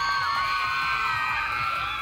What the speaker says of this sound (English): This all-girl cheer team station welcomed each runner who passed by their station.